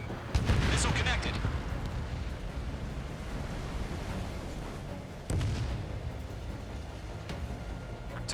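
Missile strikes on bombers in the Ace Combat 7 flight game: a loud explosive burst near the start and another blast around the middle, over a constant roaring rumble of jet and combat noise, with radio voices faintly mixed in.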